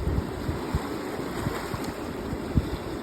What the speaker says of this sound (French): J'espère que le son des vagues et du vent n'est pas trop fort